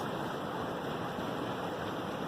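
Seawater surging in over rocks at low tide along a shore with anemones, a steady close hiss and wash of moving water filling the whole moment without pause.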